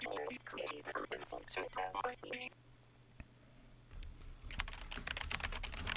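A computer keyboard typed on during a word game: a voice talks first, then, after a pause, a quick run of close, crisp key clicks clatters on.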